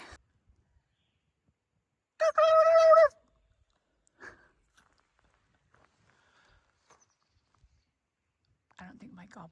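A person imitates a wild turkey gobble with one short, rapid, warbling call. Quiet footsteps and faint rustling from a trail along the Middle Fork Gila follow it, and a voice comes in near the end.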